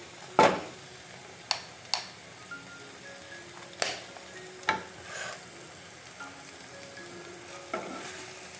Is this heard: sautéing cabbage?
yes